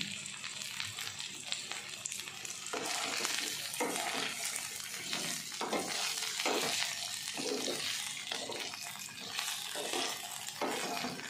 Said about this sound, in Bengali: তো মশলাটা আমার ভাজা হয়ে গেছে এর মধ্যে আমি আলু ও ভেন্ডিগুলোকে দিয়ে দিচ্ছি